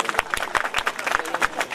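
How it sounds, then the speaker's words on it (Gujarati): A crowd claps in quick, uneven bursts at a Meldi Maa mandvo devotional gathering in Pithalpur village. Sharp, close hand claps repeat throughout, mixed with faint crowd noise. "ખૂબ ખૂબ તાળીઓથી વધાવી લેજો ભાઈ."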